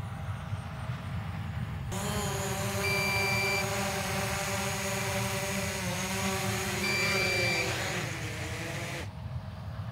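A DJI Mavic Pro drone hovers nearby with a steady high whine over a field during a corn harvest, and a pair of short electronic low-battery warning beeps sound twice over the motor buzz.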